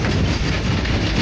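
A Konkan Railway RoRo train on the Kolad–Suratkal run rumbles loudly along the rails just after leaving a tunnel, a close, steady roar with continuous wheel clatter and no voices.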